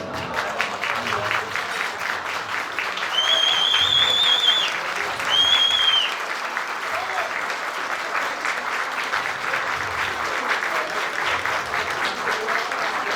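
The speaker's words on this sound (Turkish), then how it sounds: "Bugünün önemi için burada bulunan tüm erkeklerin ayağa kalkarak kadınlarımızı alkışlamalarını istiyorum" Men standing and applauding the women at a chamber of accountants' gathering in Maltepe, Istanbul: sustained loud clapping from a hall crowd throughout, swelling twice, with a couple of high whistles cutting through.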